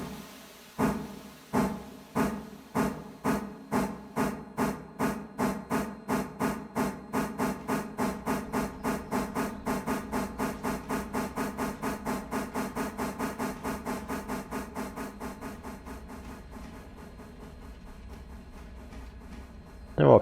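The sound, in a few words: steam locomotive hissing from open cylinder cocks, Railroader video game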